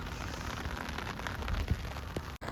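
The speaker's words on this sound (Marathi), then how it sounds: "आज आहे संडे भाई पाऊस बेकार लागला आहे बघू शकता" Heavy monsoon rain pours steadily in a dense, even wash of noise on a Sunday morning, with no voices.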